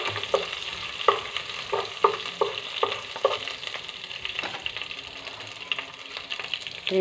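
Onions cooking in a pan for egg tomato curry sizzle steadily while a spatula knocks and scrapes in a quick series of taps early on, then stirring continues more quietly.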